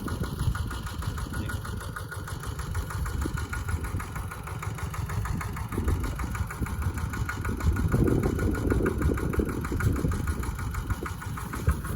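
A Kubota ET95 diesel engine driving a water pump with a size-8 outlet pipe, running steadily nearby with a loud, even, chugging drone and no speech.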